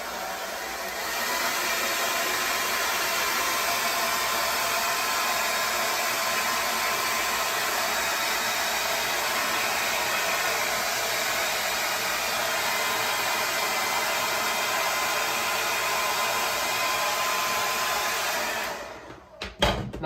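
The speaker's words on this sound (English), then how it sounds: "I'm just gonna take the blow dryer and just blow your hair straight back." A blow dryer runs at steady full power for about eighteen seconds, blowing hair straight back in an Elvis-style 1969 hairstyling session, with a close, constant roar and a few clicks and bumps as it stops at the end.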